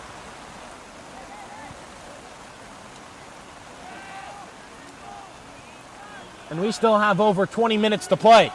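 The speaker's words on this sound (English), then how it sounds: "you can probably hear the rain coming down off the bleachers and on our umbrellas" Monsoon-like rain keeps up a steady hiss on bleachers and umbrellas at a West Orange high school game, with someone talking faintly and then loudly over it near the end.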